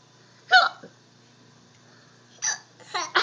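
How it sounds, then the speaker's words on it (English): A young child hiccups several times, one sharp hiccup followed after a pause by a quick cluster of two or three more, close and clear with faint breathy sounds between. "You got hiccups?"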